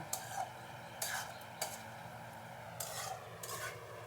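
Rajma being sautéed with spices in a pan, giving soft scraping and rubbing stirs with a few clinks of a utensil against the metal, heard close and alone at moderate loudness.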